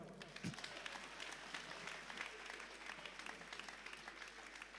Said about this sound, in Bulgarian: тук се ръкопляска.